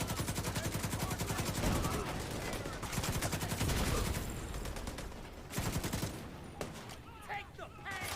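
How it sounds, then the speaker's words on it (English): Sustained machine gun fire in The Division 2 shooter game, dense rapid bursts running almost continuously at close range, loud and chaotic, with shouted voices mixed in near the end. "I saw that guy's machine gun shooting while it was on his back"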